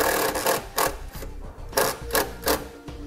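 A self-tapping screw is driven through a vehicle's fascia edge to ground a ring terminal for towed-vehicle tail light wiring, giving quiet intermittent whirring bursts from a driver over a low background.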